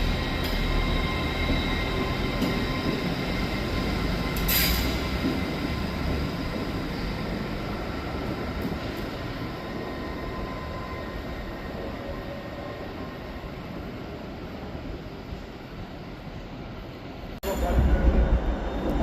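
Class 802 train on an Edinburgh to Manchester Airport service at Carlisle, a steady close rumble of a passing train that holds for most of the stretch and swells louder near the end.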